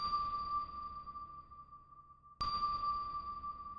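A sustained synthesized bell tone from a single MIDI note in FL Studio rings out with a long reverberant tail, then the same note strikes again and holds, alone and clear.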